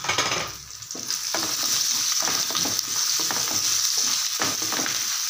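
Mustard seeds, curry leaves, dried chillies and peanuts fry in oil over a low flame for tamarind rice, a continuous close sizzle broken by scraping stirs and small popping crackles.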